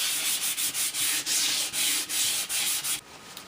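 Sandpaper is rubbed across a wooden pallet in steady back-and-forth strokes. The sound is a close, loud, hissing rasp with a regular rhythm, about eight passes, and it stops abruptly near the end.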